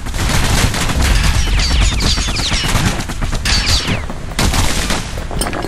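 Dual slinger pistols in the video game Bastion fire rapid, loud, close shots in a dense, continuous volley, with brief lulls between bursts and impact booms mixed in.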